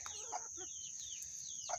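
Backyard chickens fed peas as a treat give a couple of brief, close clucks, one near the start and one at the end, over a quiet background with a steady thin high tone.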